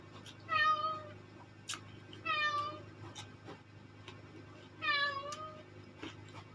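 A cat meows three times, asking for food. The plaintive meows are evenly spaced and fairly close, over a quiet, humming room.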